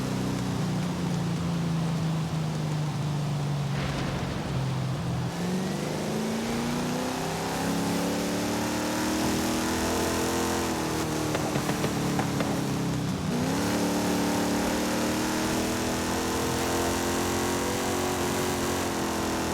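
Car engine in the video game Forza Horizon 5, a continuous loud drone that rises and drops in pitch as it revs through gear changes, close and steady with no talk.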